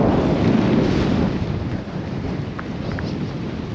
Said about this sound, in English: But it's just a horrible day. Blowing a gale, raining.